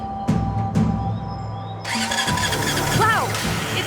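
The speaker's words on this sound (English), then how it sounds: "Let's give that engine a spin." Prototype engine in the Brassheart video game cranking and catching, a loud mechanical start that settles into a running rumble after a couple of seconds of lead-in sounds.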